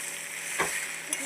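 A spoon is pushed through a spiced mixture in a hot pan, giving one quick scrape over a soft sizzle and then a small tap.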